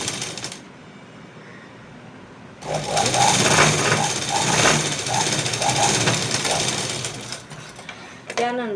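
A sewing machine stitches a tip seam along fabric during a fashion tailoring class, its rapid mechanical rattle starting after a quiet moment and running steadily and loudly for several seconds, with faint instruction spoken around it.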